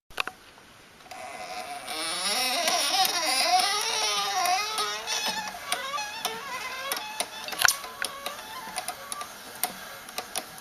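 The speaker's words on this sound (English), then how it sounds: "This is a hand winder that I've built. It makes winding coils so much easier." A hand-built coil winder winds transformer wire: a whirring mechanical whine that wavers in pitch as it turns, followed by a run of sharp, irregular ticks and clicks, close and fairly loud.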